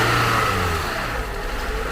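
A Toyota car engine, back running after a jump-start and repair, revs under light throttle, a steady close mid-pitched drone that eases slightly toward the end.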